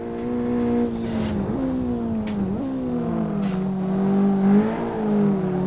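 A Daihatsu Copen in Assetto Corsa revving hard as it accelerates out of corners, engine pitch climbing and dropping with gear changes, while the tires smoke and squeal in short bursts over the steady engine drone.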